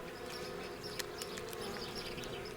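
Wasps buzzing steadily at a wild Italian dry riverbed, a continuous close drone with brief louder wingbeat swells and no voices.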